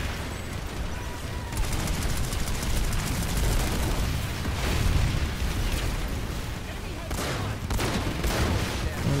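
Gunfire in the video game PlanetSide 2, dense bursts of shots and explosions rumbling continuously, with a voice talking over the battle.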